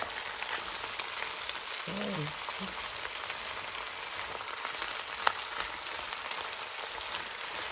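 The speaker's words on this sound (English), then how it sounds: "we're going to stir these and let them soften and caramelize" Onions sautéing slowly in a pan for French onion soup with short ribs, giving a steady soft broadband sizzle throughout with a faint clink near the middle and brief low voice-like sounds early on.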